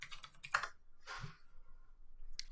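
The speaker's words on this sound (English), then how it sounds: "In order to operate the drive, you have to click on it and enter the password" A few scattered clicks of keys on a computer keyboard as a password is entered, quiet and close, in short separate bursts with pauses between.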